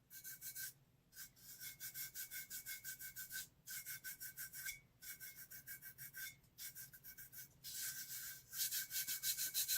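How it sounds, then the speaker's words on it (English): Sandpaper rubbing the waxy coating off a wine tumbler cup in quick, rhythmic back-and-forth strokes, in several bursts with brief pauses between them, close but fairly quiet, with no talking. "I did take sandpaper and like took off the waxy"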